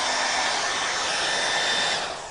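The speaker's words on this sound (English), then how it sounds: "Now I'll hit this with my dryer." Hair dryer blowing over watercolor paper, a steady, loud whooshing hum that runs without a break and tapers slightly at the end, with no talking.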